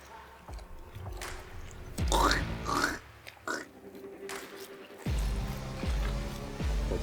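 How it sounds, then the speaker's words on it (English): Ground sausage meat being kneaded by hand after a liquid is poured in, for sausages made in a smoker: wet, sticky squelches come in close bursts, loudest around the middle and again toward the end, with a low hum underneath. "We're going to pour that in and mix it again by hand."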